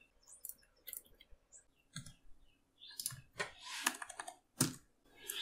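Close computer keyboard typing in quick irregular bursts of clicks, with a few pauses between keystroke runs and no talking.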